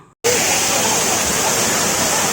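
A steady, roaring rush of falling water from Agasthiyar Falls at Papanasam, Tamil Nadu, loud and continuous, beginning abruptly after a brief silence.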